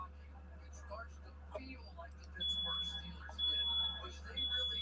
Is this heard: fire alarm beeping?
yes